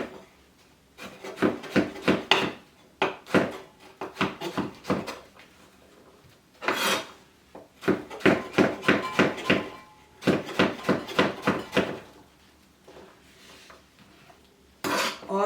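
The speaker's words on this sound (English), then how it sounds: "then I'm going to chop" A knife chops tomato, avocado and cucumber on a board for salsa, making quick bursts of crisp, rhythmic taps close up, separated by short pauses.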